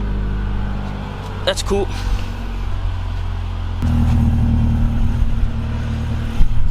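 Project car engine cranking and catching, then settling into a louder, steady running idle close by, with a brief clattering burst before the start and a person speaking over it.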